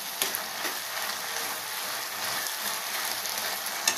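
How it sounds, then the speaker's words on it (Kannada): Okra curry for bendekayi gojju frying in a pan, a continuous, even, fairly faint sizzle heard close, with no talk. "ಸ್ವಲ್ಪ ಫ್ರೈ ಆಗಲಿ, 1 ನಿಮಿಷ ಫ್ರೈ ಆದರೆ ಸಾಕು"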